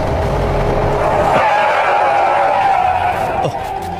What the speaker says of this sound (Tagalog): Nabangga sa motor sa truck.